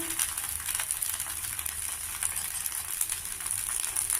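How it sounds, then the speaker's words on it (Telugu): A wheat rava dosa sizzles steadily on a hot oiled pan after being flipped, a constant crackling fry with no talk over it. "రెండో పక్కన కూడా దోశని తిప్పుకోవాలి తిప్పుకొని కొద్దిగా కాల్చుకోవాలి"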